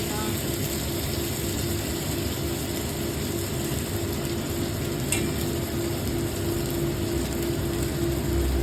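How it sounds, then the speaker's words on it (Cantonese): Potatoes and chicken strips frying in a wok, a continuous close sizzle with faint stirring scrapes and a steady background hum throughout. "再煎下先啦"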